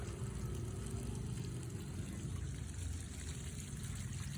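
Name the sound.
cooked pasta being rinsed with water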